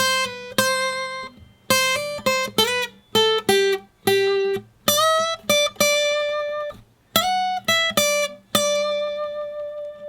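Clean-toned guitar picks a melodic line from a solo, single notes and bends in a halting phrase with short gaps between, close and alone without talking.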